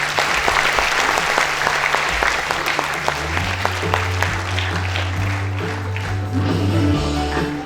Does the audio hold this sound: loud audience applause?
yes